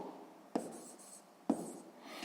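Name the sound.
writing with a pen on paper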